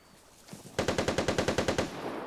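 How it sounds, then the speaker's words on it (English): Rapid machine-gun fire in the video game Vigor, a burst of about fifteen evenly spaced shots fired near a barred house, fairly faint and distant after a couple of scattered preceding pops. "pretty lengthy gunshots near the barred house"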